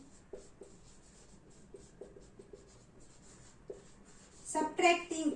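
A pen writes out an equation in a run of short, dry scratching strokes at close range, and a voice cuts in briefly near the end.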